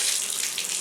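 A water tap runs steadily into a sink while someone washes their face, giving a continuous hissing splash that is heard close and alone.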